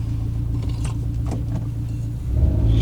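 A modified Hyundai car pulls away with a steady, close low engine rumble that swells louder near the end. No one speaks.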